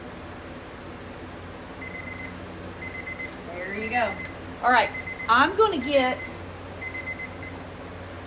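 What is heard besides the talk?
kitchen timer alarm going off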